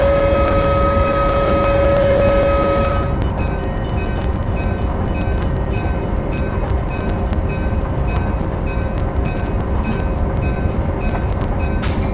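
An EMD diesel locomotive in Train Simulator 2020 rumbles loudly and steadily, its deep engine drone joined by a tonal whine that drops away after a few seconds, leaving a continuous rolling roar with scattered clicks.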